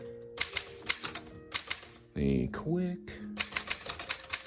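Typing on a 1959 Sears & Roebuck Smith Corona President XI manual typewriter: crisp clusters of close, loud keystrikes in an uneven rhythm, split by a brief mechanical whir in the middle, with a voice speaking over the typing.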